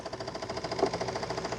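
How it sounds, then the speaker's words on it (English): A Shark Matrix RV2610WA robot vacuum's brush roller gives off a fast, steady flapping whir, a rapid rhythmic ticking over a mechanical hum, close and moderately quiet, with no talking. "that little noise you hear, that little flapper, that is the brush roller"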